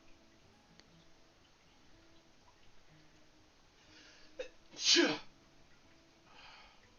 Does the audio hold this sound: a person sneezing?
yes